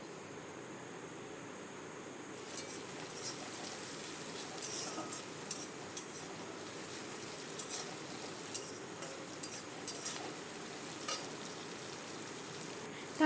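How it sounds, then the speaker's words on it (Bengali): Chopped onion frying in a pan with tomato added for a fish-head lentil dal, giving a steady, soft sizzle that runs throughout with a few faint clinks and stirring taps. "আর পেঁয়াজটা একটু 1 মিনিট মতো ভেজে এরপরে আমি টমেটোটা দিয়ে দেবো পেঁয়াজ ভাজার মধ্যে।"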